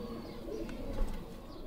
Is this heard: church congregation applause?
no